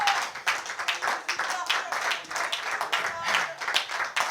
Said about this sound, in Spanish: Un aplauso al Señor esta mañana